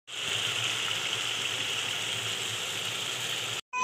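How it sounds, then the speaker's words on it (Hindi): Water pours in a steady gush into a pot of chicken curry to make gravy, a close, continuous hissing splash that stops abruptly before a brief burst of cooking noise. "थोड़ा सा ग्रेवी के लिए पानी डालूंगी"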